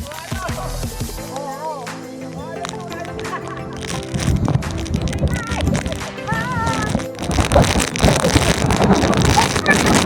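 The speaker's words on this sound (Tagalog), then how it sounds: "Lakas ng hangin dito" Strong mountain wind on Mt. Sembrano roars and buffets the microphone in a steady, broad rush that grows louder partway through, with voices talking over it.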